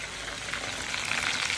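Chicken, beef and shrimp lumpia, Shanghai style, fry in hot oil, giving a continuous crackling sizzle that holds steady throughout at close range.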